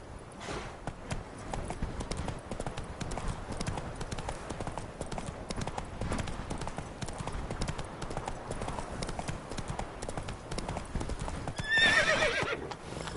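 The horse Roach gallops in a PS4 video game, with rapid continuous hoofbeats running throughout, a whinny near the end and faint voices mixed in.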